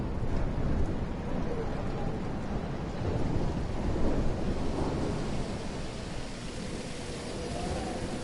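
Thunderstorm in the video game Life Is Strange: a loud, steady roar of heavy rain and wind with low rolling thunder rumbling throughout, close and dense, with no clear speech.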